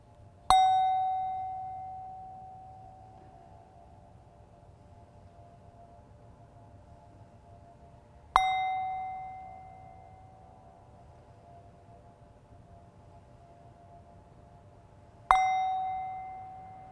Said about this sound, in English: we're just going to hear a bell